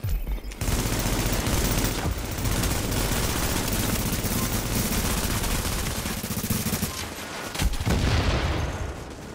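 Sustained heavy gunfire from hostiles attacking a fortification in The Division, a dense, continuous fusillade of rapid shots that runs nearly unbroken, briefly pausing near the end before another loud burst.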